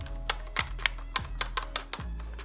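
A wired LED gaming keyboard clicks under a few evenly spaced keystrokes, crisp and close, each press a sharp tap in a quiet room.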